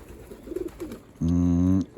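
Pigeons in a loft near the end of their moult, kept by a keeper who vaccinates them, give a few soft bubbling coos, then a louder sustained, droning tone close by.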